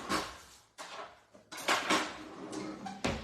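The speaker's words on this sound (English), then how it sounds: "Let me grab a whisk." Kitchen utensils clatter as a whisk is pulled from among them: several sharp metallic rattles and clinks in bursts, close and fairly loud, with no talking.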